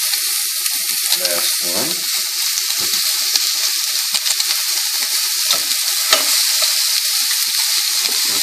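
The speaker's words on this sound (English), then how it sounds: "You can hear already the fats are popping" Duck breast sears in a pan, fat sizzling hard and loud with scattered sharp pops and crackles; a brief voice speaks over it once.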